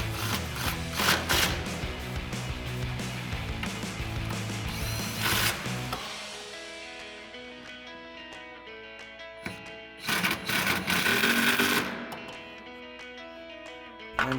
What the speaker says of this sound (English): you can use our 13mm socket on our impact to tighten down